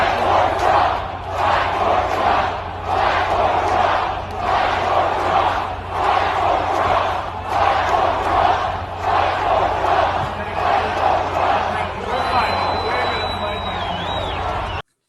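Crowd at a Trump rally in Valdosta, Georgia, chanting and cheering in loud rhythmic surges, with a whistle near the end.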